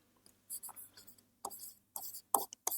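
Chalk or a marker scratches across a board while a number is written, in several short, close, quiet strokes separated by brief pauses.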